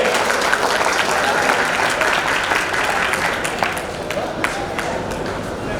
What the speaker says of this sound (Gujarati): એ તમામ મિત્રોને એકવાર જોરદાર તાળીઓથી આપણે